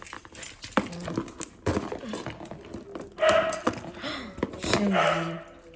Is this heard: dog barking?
yes